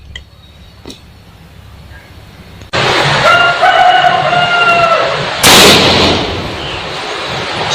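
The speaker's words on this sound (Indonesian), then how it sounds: "Nah, itu mas 2 kali shot." An air gun is fired twice during a power test, two loud sudden blasts roughly three seconds apart, the first followed by lingering noise with faint tonal calls in the background.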